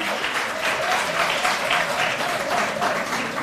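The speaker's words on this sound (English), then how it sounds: "A round of applause for Riara teachers" A graduation ceremony audience claps for teachers, a thick, continuous burst of applause at an even level throughout.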